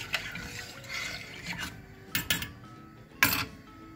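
Milk is stirred in a pot as it heats toward a boil for Turkish rice pudding, heard as soft liquid swishes and a few sharper scrapes and clinks of a utensil against the pot.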